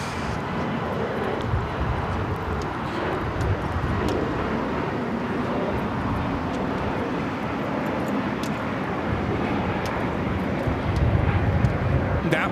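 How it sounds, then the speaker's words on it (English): A Spirit Airlines A320neo airliner takes off at LAX, its engines a steady, broad roar that holds for the whole stretch and swells slightly toward the end. "That was Spirit Airlines 489 taking off to Austin on the A320neo"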